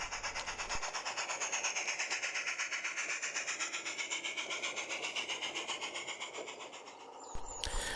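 An evening passenger train on a light railway rumbles steadily past, climbing uphill, with a rhythmic clatter of wheels on rail joints, loud and continuous, fading slightly near the end before a brief clunk.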